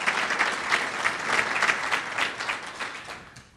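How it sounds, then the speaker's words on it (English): A luncheon crowd applauds the event's sponsors with moderately loud, rippling clapping that holds steady, then fades out quickly at the end. "round of applause for our sponsors"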